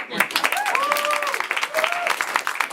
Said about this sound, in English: Clap for the players.